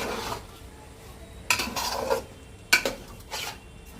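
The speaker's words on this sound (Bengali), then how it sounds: "2 চামচ চিনি এর মধ্যে দিয়ে হালকা করে আমি খুন্তি দিয়ে নাড়াচাড়া করে দেব।" A metal spatula stirring pulao in a pot in a home kitchen, giving bursts of scraping and clinking against the pot in two or three rough strokes, moderately close, with no talking.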